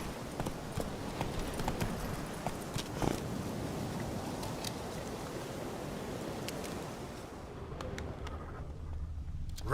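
Hooves of the horse Roach in The Witcher 3: Wild Hunt, a steady clip-clop of galloping over a soft ambient bed, moderately close, continuing for several seconds before fading slightly at the end.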